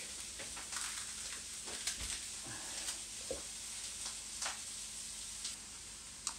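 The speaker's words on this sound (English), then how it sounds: "we're setting off some garlic with the onion" Garlic and onion sizzling in a frying pan, a constant moderate hiss dotted with small pops and occasional light ticks of stirring.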